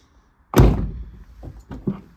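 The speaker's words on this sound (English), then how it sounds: "because the door's not closing properly. And sometimes you've got to slam it." A Mazda MX-5 Miata (NC, Mk3) door with a fault that keeps it from closing properly slams shut in one loud, close thunk, followed by a few softer knocks and rattles.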